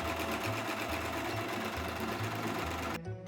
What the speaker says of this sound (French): Nous allons pouvoir coudre le fond en prenant les 4 épaisseurs à 1 cm du bord.